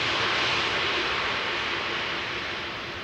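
An Airbus A330 lands at Amsterdam Schiphol Airport, its engine noise a steady, broad roar that holds strong throughout and fades slightly toward the end, with no voices over it.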